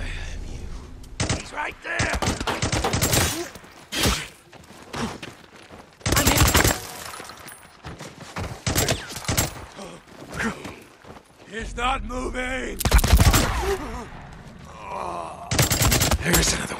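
Gunfire from the video game Days Gone during a fight against a Rippers camp, with repeated loud bursts and shots in irregular clusters alongside groaning voices and game sounds.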